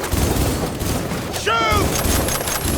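A dense volley of game gunfire in Cyberpunk 2077 rattles continuously and loudly, with a brief whistling, warbling effect cutting through partway along and a high electronic tone near the end.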